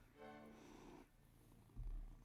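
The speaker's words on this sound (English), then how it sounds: "you gonna purr into the mic?" A cat purrs close to a microphone in a quiet indoor setting, a soft low rumble with a brief thump near the end.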